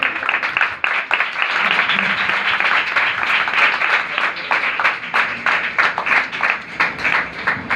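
Loud audience applause at a church sermon, dense clapping from many hands that settles into a rhythmic, even beat toward the end.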